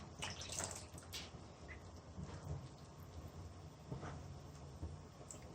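A little water is poured into fried red lobia beans in a pan, making a steady, soft splashing hiss that runs the whole time with no talking.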